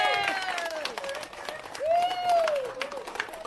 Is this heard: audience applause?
yes